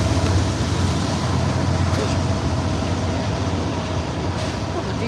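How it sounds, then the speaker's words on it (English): A train passes with a dense, steady rumble and roar that fills all five seconds, fairly close and loud, with no break. "And here come a train."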